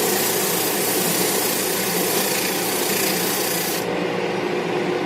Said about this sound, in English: Now with the 150 grit, I sculpt right to the line.